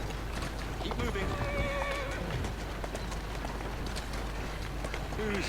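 A horse's hooves clip-clop at a steady trot through a street in Assassin's Creed Syndicate, with carriage rumble, a whinny and someone talking over the continuous busy ambience.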